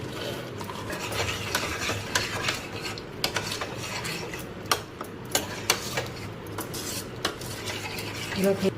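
Black peas being stirred and sautéed in a pressure cooker, a spoon scraping and clinking against the metal pot in irregular taps and rasps over a low sizzling background, close and moderately quiet.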